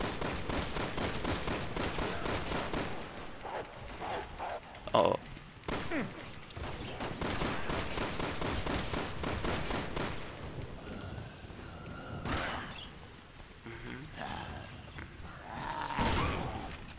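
Gunfire in the Resident Evil 6 video game, rapid bursts of repeated shots and sharp impacts filling the scene, with a few louder blasts standing out, under and between bits of speech.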